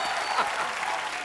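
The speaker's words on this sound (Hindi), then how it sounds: "एक बार जोरदार तालियां होनी चाहिए।" Studio audience at a TV comedy show breaking into loud, dense applause, a brief continuous burst of many hands clapping.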